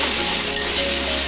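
Vegetables with onion, salt and cumin paste sauté in a pan, a brief, steady, fairly loud sizzle with no voices.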